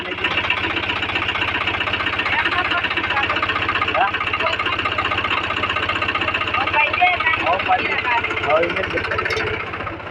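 A tractor engine chugs steadily at close range on farmland in hilly country in Gujarat, India, a continuous rhythmic diesel drone with a faint voice buried underneath.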